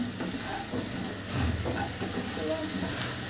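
Carrots fry lightly in a little oil for a chicken cashew nut salad, giving a steady soft sizzle with faint stirring scrapes, with some voice-like sound in the background.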